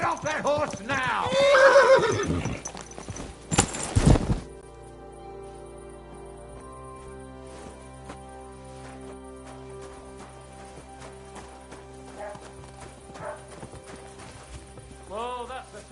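A horse neighs loudly and snorts in the medieval game Kingdom Come: Deliverance 2, followed by a sharp burst and then a long quiet stretch of faint ambient tones, hooves and a few softer whinnies in the background.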